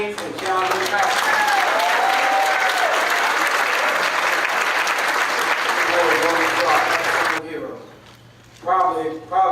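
A dense, loud burst of applause at a high school sports banquet, with voices cheering throughout. It runs unbroken for about seven seconds, then cuts off and speech follows.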